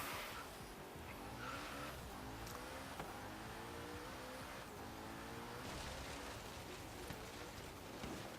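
In Forza Horizon 3, a Hoonigan car engine drones steadily as it drives, while its tires squeal and skid through oversteering slides. The sound is continuous and fairly faint, with no voices.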